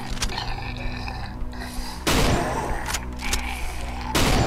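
Rifle gunfire in the horror game Cry of Fear, two loud booming shots about two seconds apart over a dark ambient drone and mechanical rattles.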